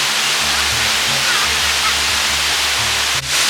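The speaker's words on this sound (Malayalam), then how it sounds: "വെള്ളച്ചാട്ടമൊക്കെ കണ്ടുപോകാൻ പറ്റും." Iruppu waterfall in Kerala pours in a steady, loud, broadband roar that runs without pause, dense and close, with a faint low rumble underneath.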